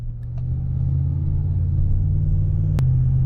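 A car idles steadily the day after its power steering rack was repaired, giving a close, continuous low engine rumble with one brief sharp click near the end.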